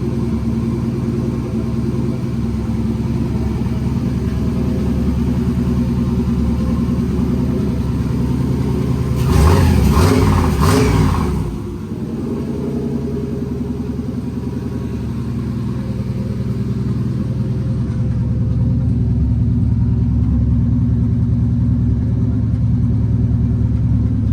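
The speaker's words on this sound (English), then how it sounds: "Car fires right up, runs excellent." A 1971 Mercury Comet with a turbocharged LS engine and Holley EFI idles with a steady deep rumble, then revs sharply once before settling back to a smooth idle, loud and close.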